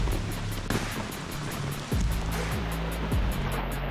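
Rushing floodwater churns and surges continuously at close range, a loud steady roar with occasional low thumps.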